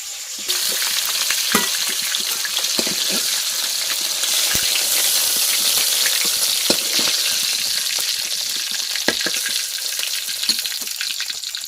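Fried fish is lifted out of hot cooking oil, which keeps up a strong, continuous sizzle close by, with occasional sharp crackles and utensil clicks and no talking.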